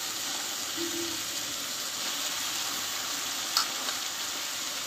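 Cabbage and potatoes fry with spices in a pan, making a steady, even sizzle with occasional stirring, and a brief sharp clink near the end.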